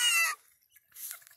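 A young backyard rooster gives a small, brief crow nearby, one short strained call followed by fainter trailing sounds.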